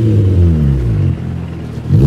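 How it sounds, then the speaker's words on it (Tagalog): A car fitted with a new aftermarket full exhaust revs loudly up close, a deep, full engine roar that swells, eases off, then climbs again. "Di ko ina-expect na mapapaganda nila ng ganito yung tunog ng tambucho natin."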